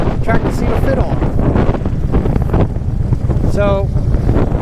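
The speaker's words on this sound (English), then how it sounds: "this wind is killer" Strong outdoor wind batters the microphone with a continuous loud roaring rumble, someone speaking briefly beneath it beside a Harley police motorcycle.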